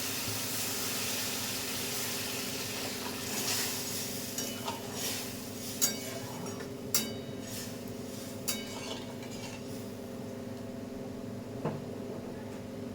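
Water poured over fried lentil fritters in a ridge gourd curry, a low steady hiss and simmer with a few sharp utensil clinks against the pot, fairly faint and close, with no voices.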